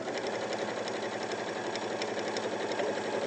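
A sewing machine stitches fabric in one continuous, even buzz of rapid needle strokes, close and steady with no talk over it.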